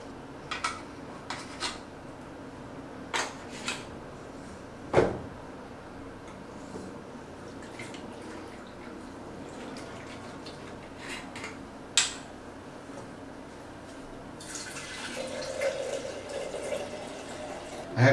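Liquid draining out of a vented film developing tank after CineStill df96 monobath processing: faint, steady trickle with a few sharp plastic clicks and taps, then a louder rushing pour near the end.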